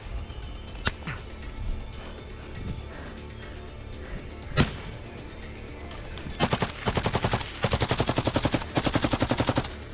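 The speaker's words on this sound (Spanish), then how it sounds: "Lanzan granadas y la balacera no se detiene" Combat gunfire with grenade blasts: scattered single shots and a sharp explosive thud, then dense rapid bursts of automatic fire crackling in quick repeated volleys toward the end.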